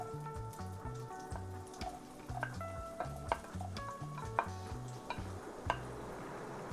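Onion sizzling as it is stirred into a pot with turkey neck for Jamaican stew: a soft frying hiss under light spoon scrapes and clinks against the pot, with steady background music.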